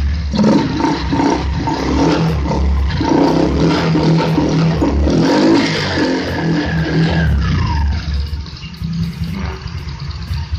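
Fuel-injected car engine, fitted with a modified sensor, revving hard and staying loud and steady for several seconds, then easing off near the end, with no talking.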